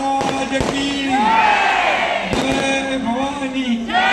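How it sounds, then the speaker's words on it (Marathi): Firecrackers bursting at an election campaign rally in Thane, a few sharp bangs cutting through a loud, continuous roar of crowd cheering and chanting. "अरे बाबा फटाके 23 तारखेसाठी ठेवा"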